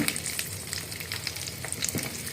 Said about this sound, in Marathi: पियाव सामा फ्राय जावका म्हणना घालता.